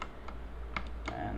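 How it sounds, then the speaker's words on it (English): Keys pressed on a computer keyboard while working in Maya animation software, a few soft, separate clicks spaced apart over steady low room hum, close and fairly quiet. "I'll press and hold V on my keyboard."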